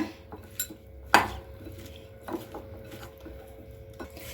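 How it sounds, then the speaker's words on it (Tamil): Salted bitter gourd pieces are tossed by hand in a metal dish, giving soft rustles and scattered small clinks with one louder clatter early on, close and quiet. "நல்லா ஒரே மாதிரி பெரட்டி விட்டுக்கலாங்க"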